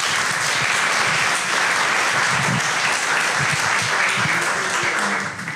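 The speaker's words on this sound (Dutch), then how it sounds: "Dus ik bedank je met een tweede applaus" A Dutch event audience gives a second round of applause, a sustained, dense roar of clapping that stays loud throughout with faint crowd murmur beneath and a slight fade at the end.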